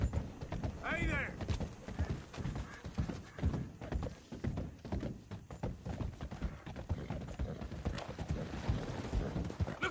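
A horse gallops in Red Dead Redemption, loud close hoofbeats pounding in a quick steady rhythm throughout, with a brief whinny early on and game ambience underneath.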